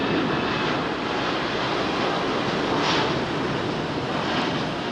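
A British Airways Boeing 787-10 roars through a steady, loud engine rumble at Heathrow Airport, with a slight swell partway through as it passes.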